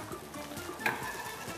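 Bacon frying in a pan while a pumpkin cream soup is being made gives a steady, moderately loud sizzle with a brief metallic clink partway through.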